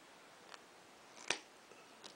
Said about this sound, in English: So basically we need to cut 1 1/8 inch of brass rod.